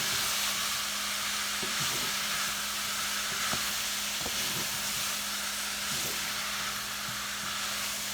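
Dried herbs, garlic and vegetables such as zucchini sizzle in a hot pan, a steady broad hiss with faint crackles and occasional soft scraping knocks, close and continuous, with no talk.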